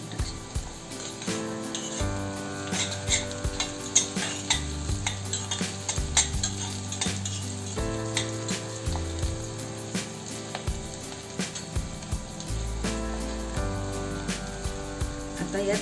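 Curry leaves and grated ginger sizzle in hot oil in a pan while upma is cooked, with a spoon scraping and clinking against the pan now and then, over steady background music.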